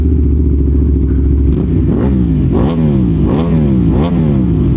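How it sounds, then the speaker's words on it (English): An Aprilia Tuono V4 1100 Factory motorcycle with its first modifications, heard while riding: a loud, close engine that revs up repeatedly, each rise dropping back as it shifts through the gears, with no talking. "That bike sounds so good."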